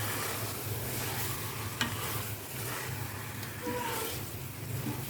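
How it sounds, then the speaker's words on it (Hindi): Spinach sautéed with spices in a pan for aloo palak, giving a continuous steady sizzle and occasional spoon scrapes, with a low background hum throughout. "अब अपने इसको अच्छे से भून लेना, जैसे कि आपके सारे स्पाइस जो है ना वो आपकी पालक के अंदर मिक्स हो जाए।"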